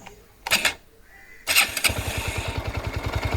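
A Bajaj Pulsar motorcycle's self starter motor whirs in two short bursts, then the engine catches and settles into a steady, close, rhythmic idle with a pulsing thump.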